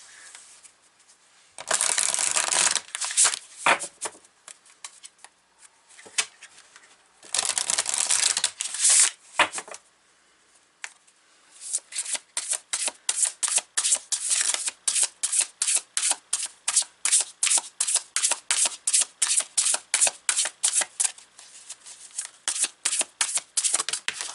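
Tarot cards shuffled by hand up close: two long riffling bursts, then a steady run of quick, evenly spaced card slaps and flicks, loud and alone.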